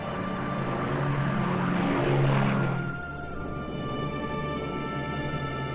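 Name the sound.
airplanes flying, Operation Magic Carpet airlift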